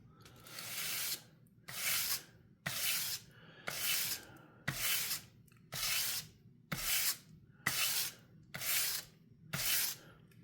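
Titanium Kizer knife scales being hand sanded to a satin finish: about ten steady, close-up abrasive strokes, each a bright scratchy rasp separated by brief pauses, in an even back-and-forth rhythm with no voices.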